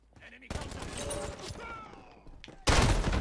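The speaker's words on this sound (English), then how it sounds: "Whoa! Oh, he shotgunned me" Shotgun blasts in Call of Duty Modern Warfare multiplayer, loud cracking bursts of gunfire with a heavy sudden blast near the end, amid game chaos and a voice talking.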